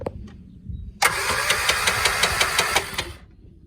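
A 1973 Triumph Spitfire 1500 engine cranking on the starter, a loud rapid rhythmic churning for about two seconds after a quiet start, then cutting off without firing.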